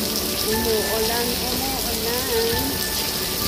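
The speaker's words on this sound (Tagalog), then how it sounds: "ang lakas ng ulan" Heavy rain pouring steadily and loudly in Singapore, a dense continuous hiss of drops on surfaces, with a faint voice murmuring underneath.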